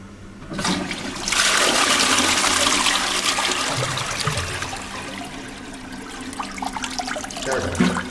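A Kohler dual-flush toilet flushes down paper towel in a home bathroom, with a sudden loud rush of water that settles into swirling and trickling refill sounds.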